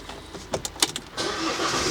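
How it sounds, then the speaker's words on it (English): A Ford Explorer engine starting: a few quick cranking clicks and whirs, then the engine catches and settles into a steady idle hum, close and moderately quiet. "First of all, obviously start your vehicle."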